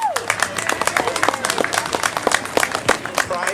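A crowd at an outdoor community corn roast claps for a sponsor, a loose burst of hand claps with distinct individual slaps over chatter and background noise, moderately loud and near.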